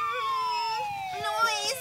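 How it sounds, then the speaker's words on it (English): Wailing emergency sirens sweep downward in pitch with layered overlapping tones, steady and moderately loud, with faint murmuring sounds underneath. "The sirens are bothering you?"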